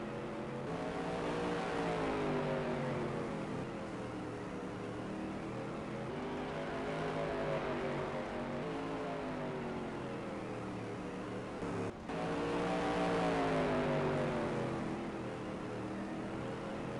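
Race cars in a 75-lap oval feature race roar continuously around the track, a steady loud engine drone with rising and falling pitch as cars accelerate and pass, layered over distant crowd noise.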